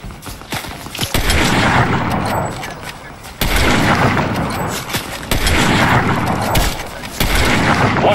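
Gunfire in Fortnite, loud repeated bursts and booming shots coming in dense waves with short lulls between them, while players talk over the shooting.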